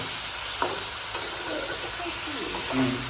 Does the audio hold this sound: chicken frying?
yes